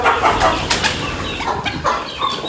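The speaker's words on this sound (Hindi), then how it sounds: "अभी मैं मुर्गी निकल आई है" A hen released from its coop flaps its wings in several quick bursts, with soft clucks and rustling, close by and moderately loud.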